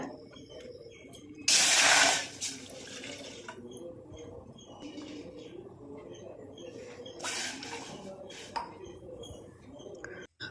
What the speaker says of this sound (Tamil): நம்ம ஒன்றரை டம்ளர் அளவுக்கு தண்ணி சேர்த்துக்கோங்க